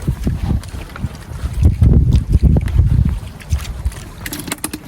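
Strong southwest monsoon gusts buffet the microphone in rough, uneven bursts aboard a fishing boat, with the wash of water around the boat underneath.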